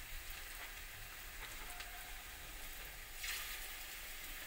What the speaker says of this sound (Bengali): এই যে করে বড়াগুলো ভেজে নিচ্ছি,